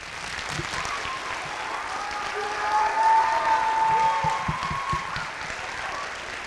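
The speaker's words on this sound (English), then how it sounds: "Please, one last applause." Applause from a school audience at a winter band concert, a steady wash of clapping that swells in the middle and stays moderately loud, with a faint tone running beneath it.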